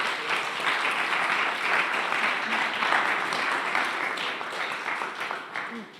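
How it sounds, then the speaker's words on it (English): An audience applauds the teams at a bio-innovation pitch competition, a dense, steady wash of many hands clapping for about six seconds that tapers slightly at the end. "please give again a huge round of applause to all the teams who pitched it today"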